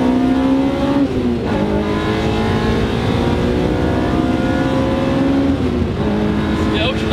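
A K20-engined Honda Civic, sold as an economy car, revs loudly from inside the cabin as it accelerates, the engine note climbing steadily in pitch, dipping at a gear change, then climbing again.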